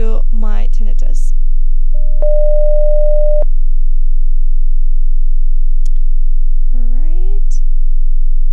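A single steady pure test tone for tinnitus matching holds for about a second and a half, bracketed by brief bits of talk before and after in a quiet room.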